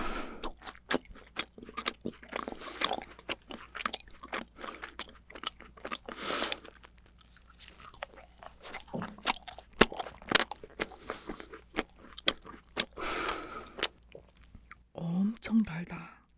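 Close, soft chewing and crunchy bites into a giant octopus-shaped cake dusted with sugar powder, irregular mouth sounds and whispery noises spread across the stretch with quiet pauses between.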